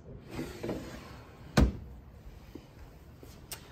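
A kitchen drawer holding forks, knives and spoons in a school kitchen lab opens with one sharp knock amid quiet room tone, followed by a faint click near the end.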